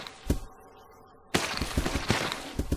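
Gunfire from Billy shooting in Resident Evil 0: one early shot, then after a short quiet gap a dense burst of rapid repeated shots with echoing impacts, fairly close.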